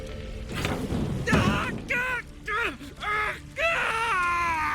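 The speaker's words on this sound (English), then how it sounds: "My ears wither from the screams." A man screaming under torture in The Witcher 3 video game, anguished wailing cries with strained, wavering pitch rising in several bursts after a thudding impact, loud and close with some dialogue mixed in.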